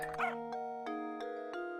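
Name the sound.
dog barking in the video game Professor Layton and the Curious Village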